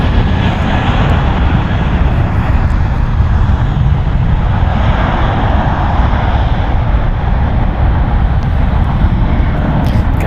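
A United Airlines Boeing 777-200 heavy arrives with a loud, sustained engine roar close by, steady and dense throughout with no voices.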